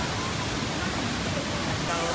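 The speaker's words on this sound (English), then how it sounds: "What we can see now is still the middle of the waterfall, not yet the top one." A great waterfall seen from its middle tier roars as a constant, dense rush of falling water, close and steady throughout with no breaks.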